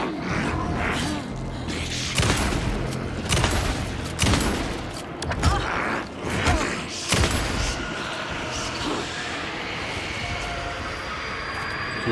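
Bursts of gunfire from shooting enemies in the horror game Alan Wake 2, several loud sharp shots spaced irregularly over a droning ambient background, with a voice briefly talking.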